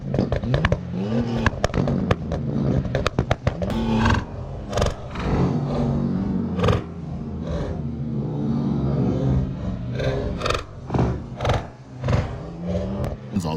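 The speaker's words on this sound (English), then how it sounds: "Rev competition." A Toyota MR2 engine revs hard during a rev competition, loud repeated sharp bursts and pops cutting through a dense roaring background, with several cars revving together at close range.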